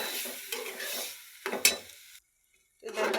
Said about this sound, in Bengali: ডালগুলো দিয়ে আমি ভালোভাবে নেড়ে ছেড়ে দেবো